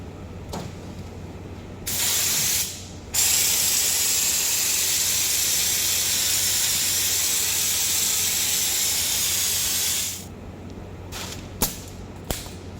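A spray gun dusts an epoxy bedliner coat, giving a loud continuous hiss in two bursts, a brief one then a long steady pass, with clicks of the trigger before and after.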